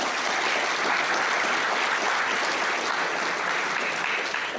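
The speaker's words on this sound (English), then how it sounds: "Can we get a round of applause for that for a second?" A lecture audience at a university talk gives a sustained round of applause, dense even clapping from many hands that holds steady for several seconds before tapering slightly at the end.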